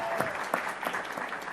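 Applause and cheering from an audience at a board meeting, quite faint and distant, with scattered claps and a murmur of voices running under it.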